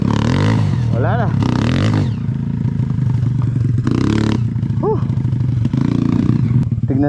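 Motorcycle engine labouring along a deep, rough trail near Sitio Dueg in Tarlac, revving in bursts with clatter and scraping, loud and close, with people talking over it throughout.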